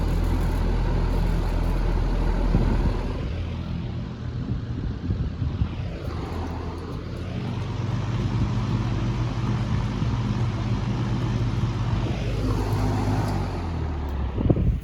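An electric fan runs hard with its grill rattling, making a loud, steady roar of moving air that rises and falls slightly, close by with no other sounds on top.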